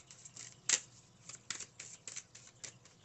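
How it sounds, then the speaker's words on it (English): Tarot cards are shuffled nearby in a quiet room, a series of soft riffling bursts with one sharper flutter near the start, faint and without voices. "stop shuffling like that"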